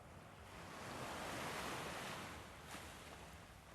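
Ocean surf rolls in as part of a sleep meditation's nature soundscape: a steady, broad wash of breaking waves that swells to a soft peak and eases back, with no voice over it.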